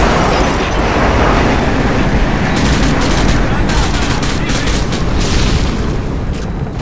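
A loud blast rolls into dense, rapid gunfire in Call of Duty: Modern Warfare 2, a constant roaring barrage close by with no clear pauses.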